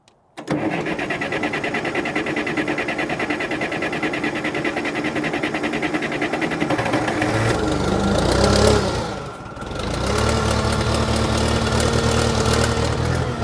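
A Case 580CK backhoe's diesel engine runs steadily at close range, its note rising briefly as more fuel is given, dipping for a moment and then settling back into a continuous loud drone.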